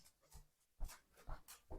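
A pet dog whimpers and pants for attention at home, a few soft, short whines and breathy sounds close by, faint and intermittent.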